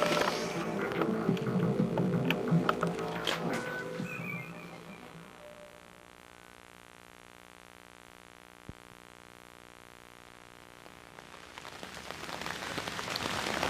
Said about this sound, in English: I'm outside in the rain with my parents' camcorder